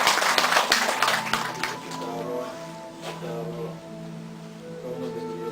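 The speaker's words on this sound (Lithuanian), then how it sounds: "Plojimai" Applause from an assembly audience in a castle hall: a spread of scattered hand claps that is strongest at the start and thins out. Overlapping voices and a sustained tonal murmur continue underneath.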